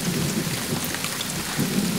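Steady heavy rain hisses across the whole band while low thunder rumbles roll underneath, swelling again near the end, with no voices present.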